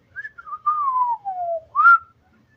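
Clear whistling of two children, a short rising phrase, then a long gliding tone that slowly falls, ending with a sharp upward whistle, close and clean against silence.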